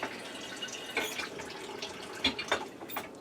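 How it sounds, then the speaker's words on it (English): About half a cup of water poured into an Instant Pot Duo Crisp while cooking ravioli and meatballs gives a few close, brief splashes and drips in a quiet kitchen. "I'm going to add in about a half a cup of water"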